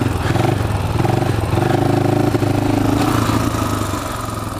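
A 400cc four-stroke motorcycle engine drones steadily while riding, with clattery mid-range engine tones that ease off slightly toward the end, heard up close without talk.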